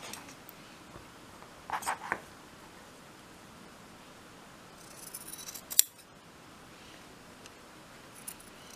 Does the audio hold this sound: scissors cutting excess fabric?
yes